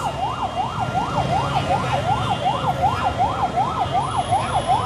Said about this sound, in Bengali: আমরা এই মুহূর্তে দেখছি একটি অ্যাম্বুলেন্স এসেছে, সেই অ্যাম্বুলেন্সটিকে কিন্তু যাওয়ার সুযোগ করে দেওয়া হচ্ছে।